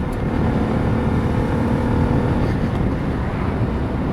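A Lexmoto LXS motorcycle with a brand-new replacement engine rides along at a gentle pace, a steady low engine drone blended with heavy wind rush across the microphone.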